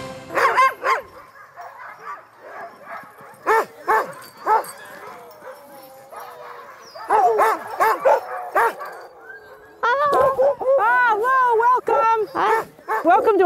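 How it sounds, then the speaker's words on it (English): A yard full of Alaskan sled dogs, thirty adults and ten puppies, barks, yips and howls in loud, close, overlapping bursts, with a chorus of rising whines and howls near the end. "we have 30 sled dogs here and 10 puppies"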